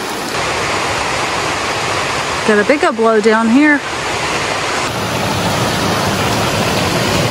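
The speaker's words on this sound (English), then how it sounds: "Well, this is a much larger creek." Steady, loud rushing of a large creek at a trail crossing on the Bartram Trail, a broad constant roar throughout with someone briefly speaking over it.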